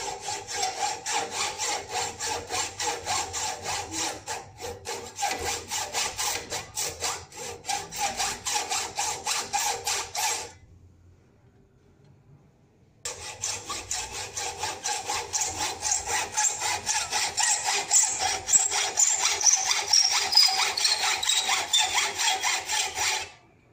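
A hand saw cuts flush through an aluminum sliding-window profile in steady rapid back-and-forth strokes, pausing briefly midway before resuming with slightly louder, brighter strokes close up.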